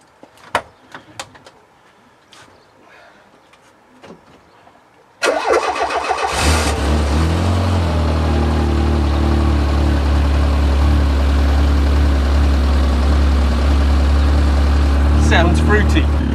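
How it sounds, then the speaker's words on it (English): A Citroen GTI 16V with its exhaust removed cranks and fires at about five seconds, then settles into a loud, steady, rumbling idle close by, after a few quiet knocks and handling sounds beforehand. "I think I'm going to start it up, see if it idles"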